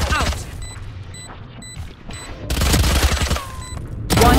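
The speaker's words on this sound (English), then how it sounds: "Swarm grenade out." A Swarm grenade going off in Valorant, loud bursts of popping explosions with sharp electronic beeps between them, then a heavier blast near the end.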